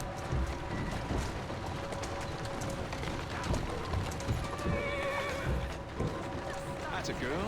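Horse hooves clip-clopping steadily with occasional neighs in Assassin's Creed Syndicate, set against a busy ambient street backdrop, with a voice speaking over it.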